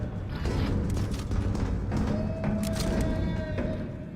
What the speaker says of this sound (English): I wonder what's in this washing machine.